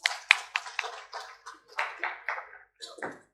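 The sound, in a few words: applause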